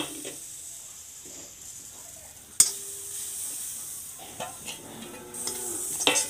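Jaggery melts in a hot karahi as it is stirred for puffed rice laddoos: a faint, steady sizzle with soft scraping and one sharp metallic clank of the spatula against the pan.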